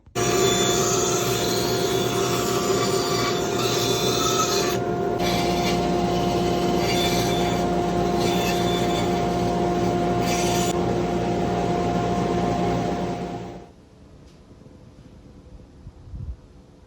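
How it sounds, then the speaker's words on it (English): Bandsaw trimming the edges off a wooden sheep carving, a loud steady cutting whine running for about thirteen seconds before cutting off, leaving faint workshop quiet. "Now I'm going to bandsaw these edges off."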